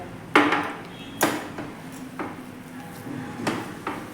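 Halwa stirred in a pan after ghee is added: a few sharp utensil knocks and scrapes against the metal pan, spaced unevenly over steady quiet background, close and moderately loud.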